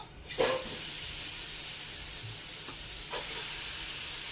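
A burst of sizzling hiss as chicken hits a hot pot, settling into a steady crackling sear, with a couple of faint clinks; no talking.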